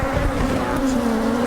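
Honey bees buzz densely at a beehive during a hive inspection, a steady droning hum with overlapping tones from many insects close by, with no one talking.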